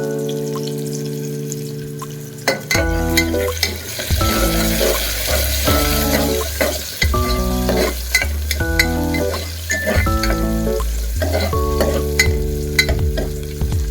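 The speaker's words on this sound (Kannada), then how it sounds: "ಇದೊಂದು ಸ್ವಲ್ಪ ಫ್ರೈ ಆಗಲಿ, ಗೋಲ್ಡನ್ ಫ್ರೈ, ಅಂದರೆ ತುಂಬ ಡೀಪ್ ಗೋಲ್ಡನ್ ಬೇಡ" Vegetables frying toward golden in a pan for masala curry, loud steady sizzle with repeated spatula scrapes and stirring strokes, close and continuous without speech.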